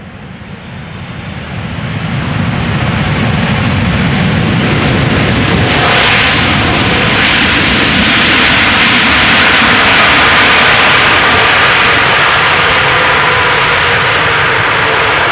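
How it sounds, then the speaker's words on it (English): A six-year-old Qatar Cargo Boeing 777 freighter touches down at Amsterdam Schiphol, its engine roar building into a loud, steady rumble that fills the air with no talk. "Touching down after 9 hours and 13 minutes, this 777 freighter, 6 years old"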